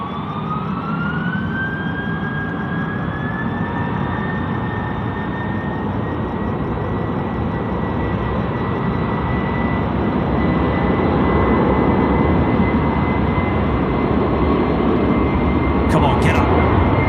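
Qantas Freight Airbus A330 jet engines spooling up for a night takeoff at Sydney Airport, a loud steady roar with a rising whine that climbs and holds, while people talk nearby.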